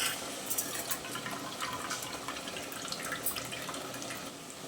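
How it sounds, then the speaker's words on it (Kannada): Faint, steady splashing of water being poured into a pot of rice, with light bubbling and trickling throughout and no talking. "4 ಗ್ಲಾಸ್ ನೀರು ಸೇರಿಸ್ಕೋಬೇಕು."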